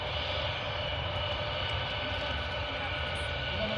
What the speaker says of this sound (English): Here it is. C-17 QA Air Force.